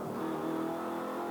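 A V8 touring car engine revs steadily from an in-car view as it runs through the infield during a 2004 race at Teretonga, a continuous loud mechanical drone.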